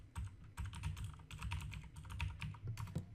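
Steady keyboard clatter as someone types a message into a webinar chat: a quick, continuous run of close key clicks with brief pauses, soft thuds underneath, and no voice.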